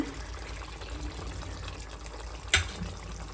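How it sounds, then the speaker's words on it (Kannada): A glass of water poured into a pot of basmati rice biryani, a steady close wash of liquid with a brief sharp splash or clink near the end. "ಈಗ ಇದಕ್ಕೆ ಇನ್ನು 1 ಗ್ಲಾಸ್ ನೀರು ಸೇರಿಸ್ತಾ ಇದ್ದೀನಿ"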